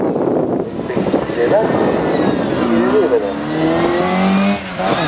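Jaguar Special race car accelerating past at a motorsport event at the Palace, a loud rising engine roar with climbing gear tones and wind buffeting, as an announcer speaks over it.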